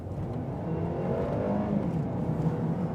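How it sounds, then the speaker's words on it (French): The engine of a 2020 Mercedes A220 drones steadily from inside the cabin while driving, a continuous low hum with slight rises in pitch as it pulls, no exhaust note and no voices. "on entend beaucoup le moteur travailler"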